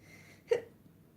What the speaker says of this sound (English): I'll get the hiccup,